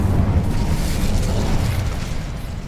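A fire spell, Incendio, cast in Hogwarts Legacy, gives a loud, continuous roaring whoosh with deep rumbling that slowly fades over a few seconds.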